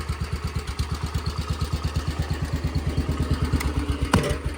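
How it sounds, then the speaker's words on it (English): A Wheel Horse garden tractor with a K-Series Kohler engine runs steadily close by, its rapid, even chugging pulses continuing throughout, with a brief sharp clank near the end. "I like that sound better than those Briggs engines"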